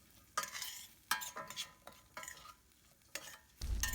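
A spoon stirs green moong dal sambar with turmeric and salt in a metal pot, giving several scraping strokes in an uneven rhythm over a faint simmer, quiet and close, with a low thump at the end and no speech.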